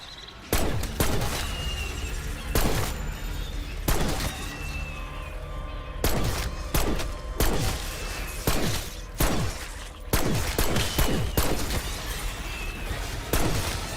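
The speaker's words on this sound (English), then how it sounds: "I'll drop the machine gun turret down." A machine gun sentry turret in Black Ops 6 zombies firing repeated sharp bursts, loud and close, spaced irregularly across the whole stretch amid game effects, with no talking.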